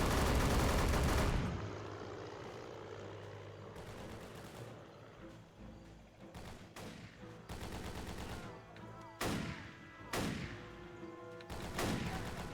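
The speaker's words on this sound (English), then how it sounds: "I do love the M1 Garand sound effect" M1 Garand rifle fire in the Xbox 360 game The History Channel: Battle for the Pacific: a heavy opening burst, then several sharp, spaced single shots ringing out over low background game noise.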